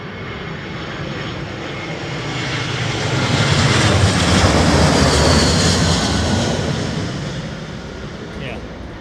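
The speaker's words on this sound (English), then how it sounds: "for that aircraft on the approach" An airliner on approach to London Heathrow Airport passes with a broad engine roar that swells to a peak midway, then slowly fades.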